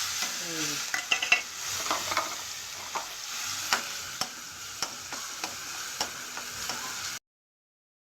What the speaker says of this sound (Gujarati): તાવડીમાં આપણે તેલ મૂક્યું છે, હિંગ નાખીશું અને આદુ, મરચાં, લસણ